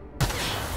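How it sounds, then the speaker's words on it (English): An explosion in the video game The Outer Worlds bursts in suddenly with a sharp onset, then a loud, sustained crackling rumble fills the remainder, heard alone. "explosions"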